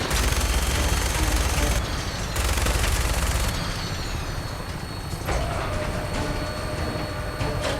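Fallout 4 video game combat aboard an aircraft, with sustained rapid gunfire bursts over a loud, rumbling engine drone that stops and starts, the shooting continuous and close.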